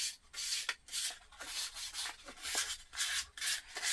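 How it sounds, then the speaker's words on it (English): Sandpaper scrubs in quick back-and-forth strokes over a white base coat of paint on a wooden nutcracker, close up and alone, in an irregular rhythm with brief pauses. "now I'm going to sand that down"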